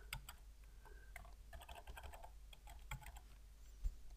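Keys on a computer keyboard clatter in quick, uneven bursts of taps as a password is typed, close and fairly quiet, with no voices.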